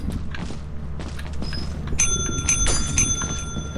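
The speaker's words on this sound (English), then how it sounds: "Let me click the bell." A bell clicked in the video game Lethal Company rings several times as bright, sustained chimes over a low game background rumble, with footstep-like noises around it.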